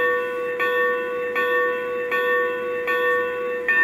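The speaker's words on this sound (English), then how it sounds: "Or I can turn on the bell." A model train's bell rings in a steady rhythm, about five evenly spaced strikes over a continuous tonal hum, clear and close.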